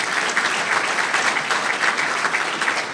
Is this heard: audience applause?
yes